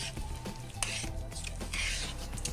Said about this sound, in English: we're just going to keep on mixing until it's all combined